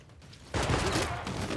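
Battlefield gunfire from a machine gun army under attack in the strategy game Civilization VI, a sudden dense burst of overlapping shots and rumbling blasts that cuts in after a quiet moment and keeps going loud to the end.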